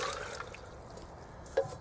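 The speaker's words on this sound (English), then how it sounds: "Pour this water back into that." Water is poured back into a bowl while making bread outdoors in the woods, a faint soft trickle with a few small drips and one brief louder splash near the end, heard alone.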